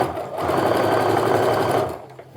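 A sewing machine stitching cotton quilt pieces together for a diamond-pattern quilt, a loud, steady, close whirring run lasting about a second and a half before it slows and stops.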